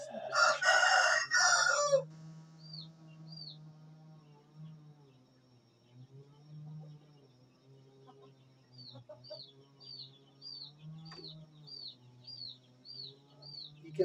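An Indian game rooster crows nearby during hand training, a loud crow at the start followed by softer, drawn-out calls, with some low background noise.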